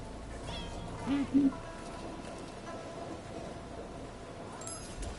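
Cat in the Rise of the Ronin video game giving two short, soft meows in quick succession, faint under steady game ambience.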